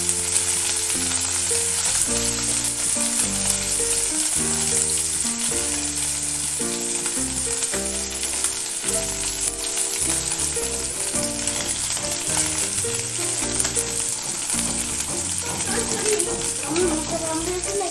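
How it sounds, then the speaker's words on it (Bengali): Small mourola fish fry in plenty of oil in a wok, a dense, constant close-up sizzle running under steady background music. "একটু বেশি করে তেল দিয়ে ভাজতে হবে, মৌরলা মাছ তো বেশি করে তেল দিয়ে না ভাজলে ভালো ভাজা হবে না"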